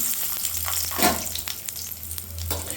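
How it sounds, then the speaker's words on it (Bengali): Cashews frying in hot refined oil in a pan, a steady close sizzle with scattered pops and stirring scrapes, no talking. "আমি সামান্য কাজুগুলো ভেজে নিচ্ছি"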